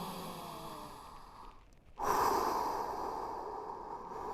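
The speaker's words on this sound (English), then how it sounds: "Taking some good deep breaths." Deep breaths during a seniors' walking workout, a soft exhale fading to near silence, then a fuller rushing inhale and breathy release, close and alone without talking.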